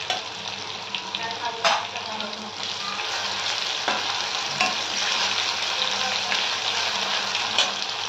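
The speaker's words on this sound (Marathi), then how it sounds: "थोडे आलं लसणाची पेस्ट टाकायची।" Ginger-garlic paste sizzling and frying steadily in hot oil in a pan for a spicy prawn curry, with a continuous close crackle and occasional stirring scrapes.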